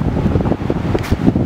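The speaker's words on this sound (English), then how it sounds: "It's a bit windy." Gusty wind at Oyster River Potholes, British Columbia, buffets the microphone with a low, rumbling roar that rises and falls throughout, loud and close, with no voices.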